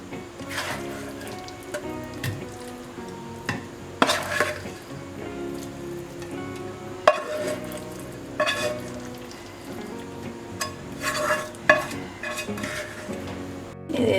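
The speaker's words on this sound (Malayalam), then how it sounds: "ഞാനിപ്പോൾ ഈ സ്പൈസി ചിക്കൻ റോസ്റ്റ് ഒരു സെർവിങ് പാത്രത്തിലേക്ക് മാറ്റുകയാണ്." A spoon scrapes and clinks against a pan as spicy chicken roast is moved into a serving dish, with repeated metallic taps and scrapes over a steady background sizzle.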